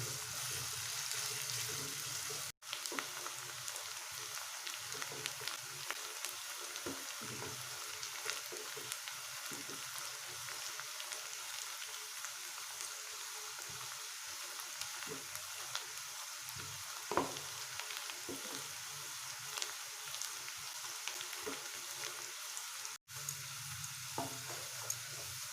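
Onions fry in hot oil in a home kitchen while Chicken Korma is being made. A steady, soft sizzle carries on without a break, with occasional faint clinks and stirring sounds and no voices.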